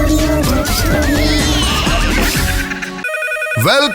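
A telephone rings loudly with a warbling electronic tone on a radio comedy show, repeated trills filling the moment before a brief pause and another burst.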